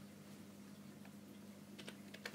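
Typing on a keyboard to send an Xbox message: soft, quiet key clicks, sparse at first, then a quick cluster of taps near the end, with no voices.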